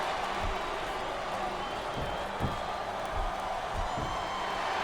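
Wrestling arena crowd noise from SVR 2007 during a Chris Benoit versus Shawn Michaels ironman match, a steady roar with a few rising cheers and thumps, with a voice faintly over it.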